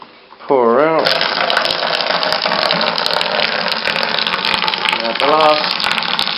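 Hot water pours steadily from a homebrew boiler into a fermenting bucket during an extract brew, a loud continuous gushing stream that starts after half a second and runs to the end, with brief speech at the start and near the end.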